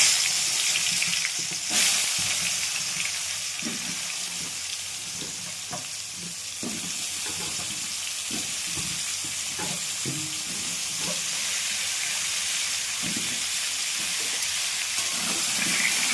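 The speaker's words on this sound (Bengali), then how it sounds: "এবার পটল আলুগুলো ভেজে নেব" Pieces of pointed gourd and potato fry in hot oil in a wok, giving a steady, close broadband sizzle with scattered stirring clinks and scrapes throughout, no voices.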